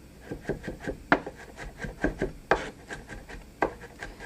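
Knife chopping garlic on a cutting board for a tomato seafood spaghetti, with irregular close taps and scraping strokes, some sharper than others, with no one talking.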